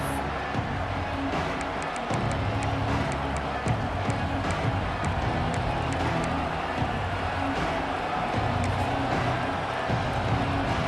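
A college football stadium crowd at an Oklahoma State versus Georgia Tech game makes a steady, dense roar of cheering and noise, distant and sustained with faint scattered accents.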